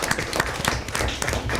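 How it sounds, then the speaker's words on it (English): Audience applause at a county school board meeting, a short burst of dense clapping from a room full of people, steady and fairly close throughout. "Let's give that a hand clap."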